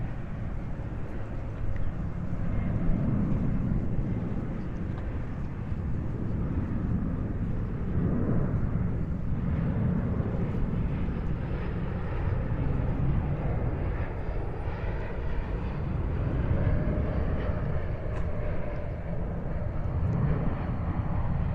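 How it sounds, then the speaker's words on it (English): A fixed-wing airplane passing over a waterfront park near the airport in College Point, Queens, a steady loud low engine roar holding throughout with no speech. "right where the plane flew over"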